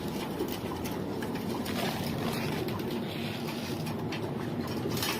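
Racing pigeons coo softly while feeding in a loft, low murmuring calls over a steady background hum, fairly faint and without talk.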